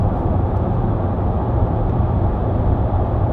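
Range Rover 4.4 TD V8 Westminster 4x4 cruising on a motorway at about 70 mph, a steady, unbroken low rumble of engine, tyre and road noise inside the cabin with no talk.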